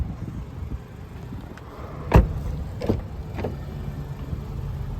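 Electric power windows on a 2015 Honda Accord Sport hum as they move, with a sharp thunk near the middle and a couple of softer knocks after, close by and alone.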